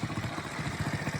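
A small engine runs steadily right after a carburetor needle adjustment, giving a close, rapid, even putter with a faint mechanical clatter.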